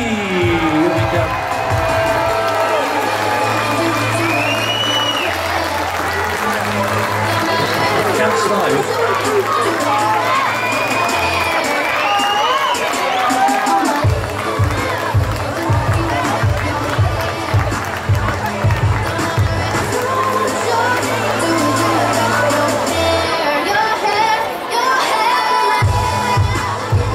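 A crowd at a girls' football club presentation event at a holiday camp cheers, shouts and claps steadily throughout, with children yelling over loud background music and an announcer's voice.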